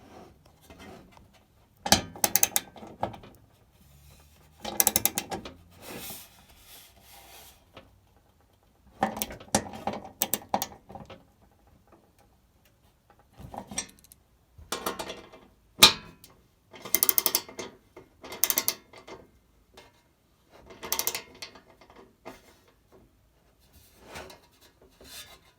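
Fittings being tightened by hand on a Dometic propane camping stove, with intermittent bursts of ratcheting clicks, metal scraping and rubbing separated by quiet pauses, close and moderately loud.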